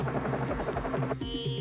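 A helicopter's rotor thumps in a fast, steady pulse, loud and close, with a slight shift in tone partway through and no voices.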